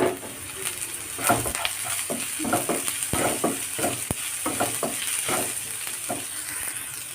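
Green chillies tossed into a hot pan fry with a steady close sizzle, broken by repeated scraping and stirring clinks of a utensil against the pan, with no talking.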